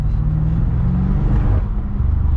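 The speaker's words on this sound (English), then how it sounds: "When the windows are all the way open, you can hear the turbos spool." A 2021 BMW M5 Competition driving with its windows down, a deep, steady engine drone and low rumble from inside the cabin with a faint whirring turbo spool under it.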